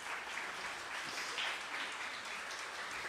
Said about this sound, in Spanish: Un aplauso para nuestro modelo aquí.